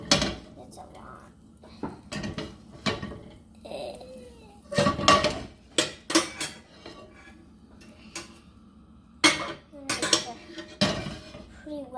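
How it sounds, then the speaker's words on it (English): Spatula scraping and tapping on a pan while butter is spread around it for dog pancakes, a series of short clattery metal knocks and scrapes with pauses between, close by, with quiet talk in places. "And then we're going to spread the butter around the pan."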